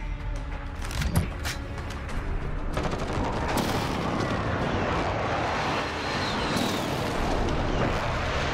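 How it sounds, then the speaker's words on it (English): Precision airstrike explosions rumble across the Backlot map in Call of Duty Modern Warfare, a dense, continuous roar of blasts and gunfire mixed with sharp impacts throughout. "Friendly precision airstrike on the way."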